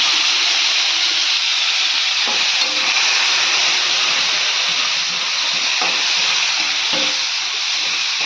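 Chopped tomatoes frying in a pan for a paneer dish, a loud, steady sizzle with constant hiss and a few faint stirring knocks.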